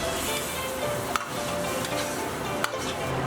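Tofu puffs are pushed around in a wok with added water, giving a continuous wet, bubbling scrape. Two brief metallic knocks cut through it, with no talking.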